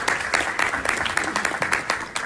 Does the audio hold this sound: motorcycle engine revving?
no